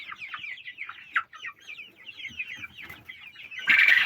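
A cluster of young chicks peep rapidly and continuously at close range, high chirps overlapping, ending in a brief burst of rustling noise.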